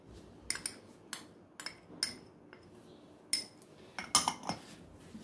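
A metal spoon stirs sugar and cocoa powder inside a mug, clinking against the sides in a string of bright, irregular taps, close and fairly quiet, with no talk.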